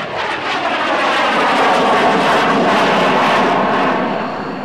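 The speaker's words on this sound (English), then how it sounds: "The low approach. Here comes the Black Jet once again." A Lockheed F-117A Nighthawk jet makes a low approach pass at the 2007 Langley AFB airshow, its engine roar loud and sustained, swelling to a broad rushing peak and easing slightly as it passes.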